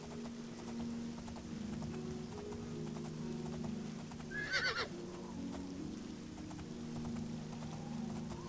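A horse gallops in the video game The Elder Scrolls IV: Oblivion, its hooves clip-clopping in a steady rhythm at moderate distance, with a brief whinny partway through.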